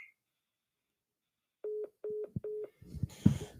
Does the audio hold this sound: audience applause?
no